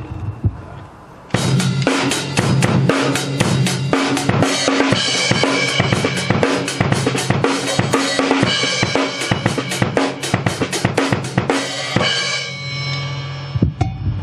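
A drum kit plays a measure of 7/4 at a drum clinic, busy and loud, with dense kick, snare and cymbal hits crashing continuously for about twelve seconds after a brief quiet start.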